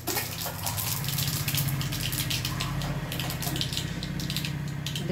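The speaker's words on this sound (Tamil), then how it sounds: "எண்ணெய் காஞ்சிருச்சுங்க, கடுகு போட்டுக்கலாங்க. கடுகு நல்லா பொரியணுங்க." Mustard seeds spluttering in hot oil for ven pongal, a dense continuous crackle of tiny pops over a low steady hum, close and fairly quiet.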